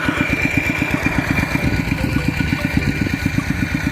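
An engine-driven 4-inch water pump runs beside a rice field, pumping water with a fast, even chugging beat that thumps steadily and close by with no voices.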